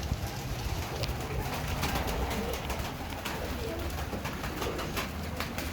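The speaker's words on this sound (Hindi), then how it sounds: "अब ये दाना खा रहे हैं कबूतर" Pigeons at feeding time fill the space with steady, faint cooing and soft fluttering over a constant low background hum, with no one speaking.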